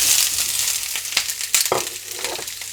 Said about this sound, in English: And I'm going to add my vegetables in, and then I'm just going to leave them and not move them.